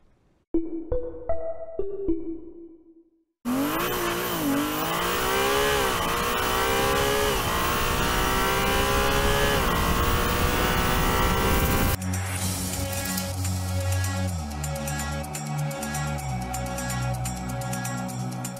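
A Ferrari 296 GTB, the 830-horsepower plug-in hybrid V6 sports car, revs loud and close: a few short sharp blips first, then a long sustained rising roar, then a steady lower drone that continues through the end.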